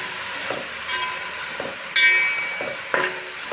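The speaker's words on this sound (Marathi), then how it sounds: "आपण परत तेलावर फिरवून घेऊया," Tomatoes and onions stir-fried in oil for a veg pulao sizzle softly, with a few sharp scraping stirs of the spatula at irregular intervals.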